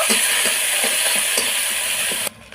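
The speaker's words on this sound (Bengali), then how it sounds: "কড়াইতে সর্ষের তেল দিয়েছি দিয়েছি দিচ্ছি কালো জিরে দেব পেঁয়াজ আর লঙ্কা কুচি পেঁয়াজ লঙ্কাটা একটু ভেজে ভেজে নেব" Onion and chopped chilli fry in hot mustard oil with black cumin in a wok, a steady loud sizzle with a few soft stirring knocks, cutting off sharply near the end.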